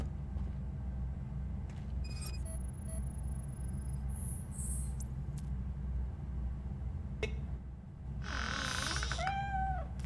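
In the video game Robocop: Rogue City, a cat meows a few times over a steady ambient hum. The mewing calls come near the end of the clip, with faint electronic tones earlier and no speech.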